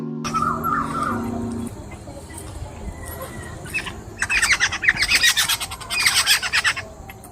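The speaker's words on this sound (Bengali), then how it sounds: "দেখুন, ওই গাছটায় পাখিগুলো কেমন করে কিচিরমিচির করছে।" Birds chirp and squawk in a tree on a foggy morning, with scattered calls early on, then a denser burst of sharp, close chattering over faint background noise.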